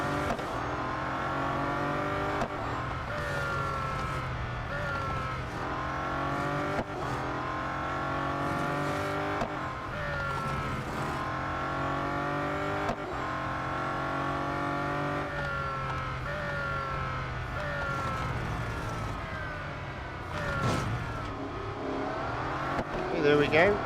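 Bugatti Centodieci hypercar racing in Real Racing 3 on a final lap, its engine droning steadily with repeated rising gear sweeps and shifts, loud and continuous, with a person talking over it.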